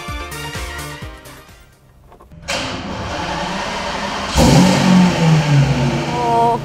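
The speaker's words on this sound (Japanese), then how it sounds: "では早速エンジンをかけたいと思います。" A four-wheel-drive Lamborghini Murciélago cranks and fires up, a starter whir giving way to a sharp burst into a loud engine roar, then a second hard rev and a strong, rumbling idle, all close with no speech.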